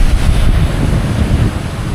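Ocean waves on the south coast of Java roar in a continuous, loud wash, buffeted by heavy wind noise on the microphone.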